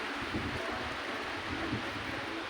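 Wind gusting at the entrance of a zoo in Guadalajara, Spain: a steady broadband rush with low rumbling buffets against the microphone, continuous and fairly loud, with no voices.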